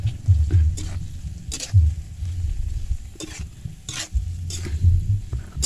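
Fried jengkol is stirred in a pan with sweet soy sauce. Repeated scraping strokes come in uneven bursts over a steady soft sizzle, close and moderately quiet.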